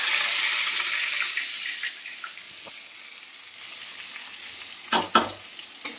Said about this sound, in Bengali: পেঁয়াজটা দিয়ে দিলাম, পেঁয়াজটা ভেজে নেবো ভালো করে